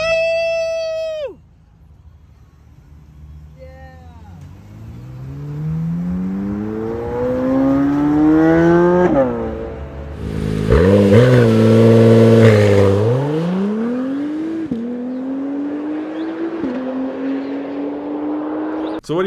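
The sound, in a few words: possible Chevy Corvette hybrid turbo V6 accelerating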